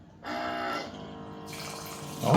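A Xiaomi mini self-priming pump runs with a steady motor hum as water gushes and splashes, the flow changing in character partway through before a louder burst of splashing at the end.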